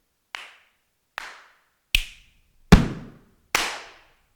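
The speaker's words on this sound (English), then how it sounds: "Good sounding claps, stomps, snaps." Five separate percussive hits from El Clapo plugin samples, claps, stomps and snaps, played one after another with short gaps, crisp and close, the fourth with a heavier low thump.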